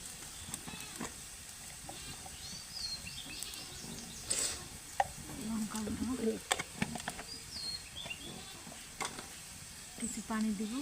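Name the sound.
onions and chillies frying in a pan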